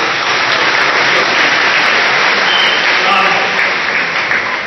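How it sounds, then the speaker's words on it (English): A dense, steady wave of audience applause fills a collegiate athletics awards ceremony honoring a men's ice hockey team, staying loud and unbroken throughout with no voices on top. "So, one more round of applause, please."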